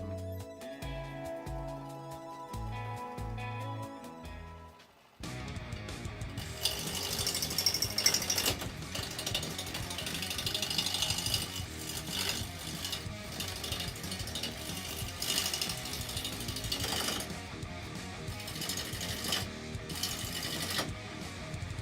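A wood lathe spins up to turn a wooden cup: after a few seconds of tonal sound, a loud, continuous mechanical whirr and grinding starts abruptly and carries on steadily close by.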